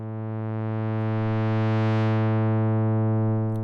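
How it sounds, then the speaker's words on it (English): A dry synthesizer pad patch built on a pulse wave, with no reverb: a steady, sustained buzzy chord whose brightness opens up toward the middle and then settles again, loud and continuous throughout. "if we turn off the reverb for now, so we can hear our basic patch"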